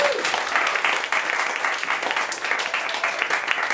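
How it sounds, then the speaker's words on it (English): An open mic audience applauds, a steady, dense wash of clapping that carries on throughout at full loudness. "You can applaud"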